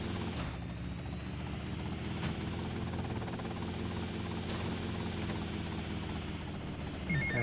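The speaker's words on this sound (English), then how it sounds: "you can see him flying the helicopter" A helicopter in the video game GTA Vice City drones with a steady rotor and engine hum throughout, even and continuous.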